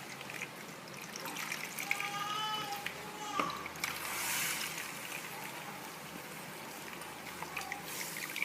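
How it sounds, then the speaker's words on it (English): Juice being wrung from grated cabbage through a cloth in a home kitchen, a soft trickling, dribbling patter of liquid that swells and fades over several seconds, with faint background noise. "So I'm going to transfer it inside this cloth and squeeze all the juice out of the cabbage."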